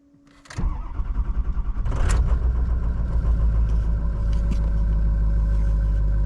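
A 2006 Ford F250 truck engine cranks and catches, then settles into a loud, steady rumbling idle close by.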